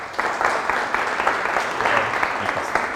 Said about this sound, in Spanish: Vamos a darle un aplauso de la bienvenida.